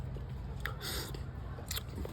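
Beef ribs being chewed up close, a few soft wet bites and crunchy mouthfuls spread over two seconds, alone without talk.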